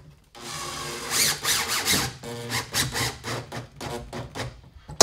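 A power drill drives screws into a bathtub flange during a DIY plumbing job, giving loud, close whirring bursts that rise and fall in pitch with short pauses between them.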